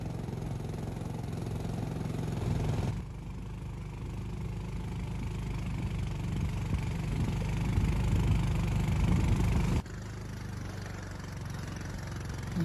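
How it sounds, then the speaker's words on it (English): Motorcycle engines idle with a steady low rumble, continuous throughout, with a brief drop in level partway through and no voices, in Shintuya near Manu National Park, Peru. "we went back to get our motorcycles from Shintuya and ride back to Salvacion"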